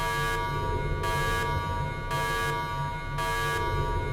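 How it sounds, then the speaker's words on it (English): In a Doctor Who audio drama, a harsh electronic alarm buzzes in a repeating on-off pattern, with roughly one-second blasts separated by brief gaps, loud and continuous over a low droning hum. "No, I don't want to hear those alarms."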